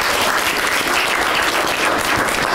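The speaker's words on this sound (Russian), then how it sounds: "Звучат аплодисменты" Sustained audience applause fills a hall during a master class by an honored artist, a dense, steady wash of many hands clapping at even loudness throughout, with no voices over it.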